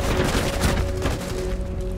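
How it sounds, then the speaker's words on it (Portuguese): A rapid, dense exchange of gunfire in Rainbow Six Siege crackles continuously, with overlapping shots and a low rumble beneath. "trocando tiro com o cara"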